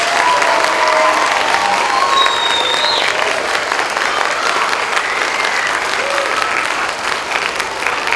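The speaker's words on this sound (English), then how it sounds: "So let's give them another huge round of applause." An audience of families applauds after a children's choir Halloween performance at a school, loud sustained clapping with a few cheers, continuous throughout and without talk.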